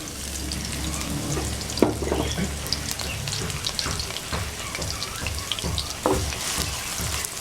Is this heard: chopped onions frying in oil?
yes